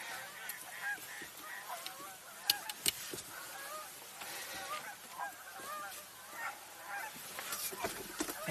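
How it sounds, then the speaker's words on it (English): Canada geese honking repeatedly in a loose, overlapping chorus, calls rising and falling over one another with sharper nearby honks standing out, heard outdoors with no talk over them. "And there are a number of Canada geese."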